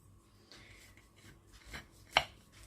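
A knife scrapes and saws quietly through a soft pie baked in a frying pan, ending in one sharper tap against the pan underneath.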